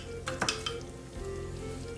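Fried chicken pieces drop into a hot pan for a restaurant-style starter, giving a few sharp sizzling bursts that settle into a soft, steady frying hiss, close and fairly quiet with no speech.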